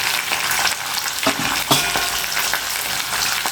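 Cashews, turmeric and asafoetida sizzle steadily in hot oil in a pan, with a few sharp scrapes and clatters as the mixture is stirred. The frying is close and continuous.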